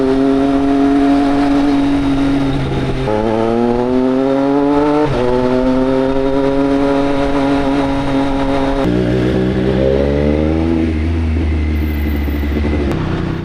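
A motorcycle engine rises and drops through repeated gear changes as it is ridden and revved, each pull climbing steadily in pitch before a shift, loud and close throughout.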